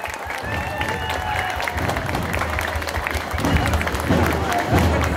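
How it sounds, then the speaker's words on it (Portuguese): Crowd applause and clapping at a 7 September Independence Day school parade in Miradouro, Minas Gerais, Brazil, sustained and fairly loud with an announcer speaking over it. "Uma salva de palmas para a educação infantil."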